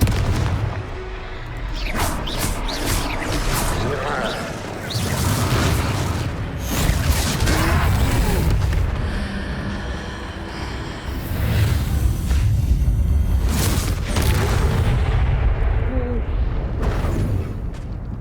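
Repeated booming spell blasts from a fight against a troll in Hogwarts Legacy, loud and continuous with several heavy bursts over a dense rumbling game mix.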